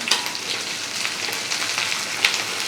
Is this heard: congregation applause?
no